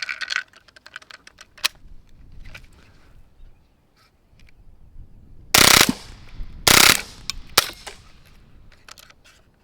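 A TX22 rimfire rifle with a thermal scope fires on a Texas hog hunt: light clicks and small pops, then several sharp, loud cracks spaced about a second apart.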